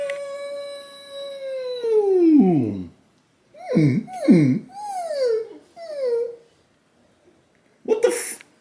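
A dog whines and moans in drawn-out, sliding high cries, first one long falling whine, then several shorter wavering moans in quick succession, ending with a brief huffing sound after a pause.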